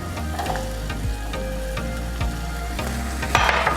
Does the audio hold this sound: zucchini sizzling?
yes